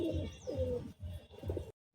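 Giribaj pigeons coo close by in a few soft, throaty phrases with short pauses between them, quiet and alone before the sound cuts off.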